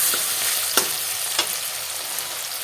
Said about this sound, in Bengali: এখানে রসুন কষে নিয়েছি রসুন দিয়ে দিচ্ছি কষিয়ে নেব